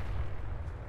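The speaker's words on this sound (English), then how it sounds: "I get the feeling that vehicle's gonna explode." A vehicle blows up in Fallout 4, heard as one continuous, heavy low rumble of an explosion lasting under a second, fairly quiet and without speech.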